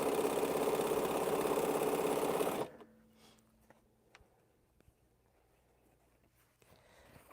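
A sewing machine stitches string and crumb quilt blocks, running in a steady loud whir for about two and a half seconds before stopping abruptly, followed by quiet with faint clicks and light handling noises.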